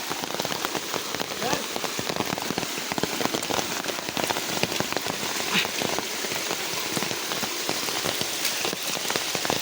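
Heavy rain pours steadily at night along a stream during a crab hunt after the first monsoon rain, a dense, loud hiss of drops pattering on surfaces throughout with no break.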